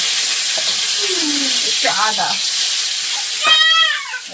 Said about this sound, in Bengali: তেলে দেবো তেজপাতা